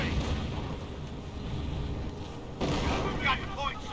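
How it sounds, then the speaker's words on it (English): A bunker blown apart in Company of Heroes, the WWII strategy game: a continuous rumble of explosions and battle noise, with a second burst of blast and debris partway through, heard under a commentator's voice. "And there goes that bunker."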